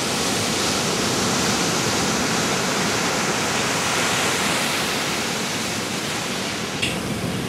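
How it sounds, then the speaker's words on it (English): Steady broadband wash of ocean surf rolling onto a sandy beach, continuous and fairly loud with no distinct breaks between waves and no voices. "There's an ocean here, you guys!"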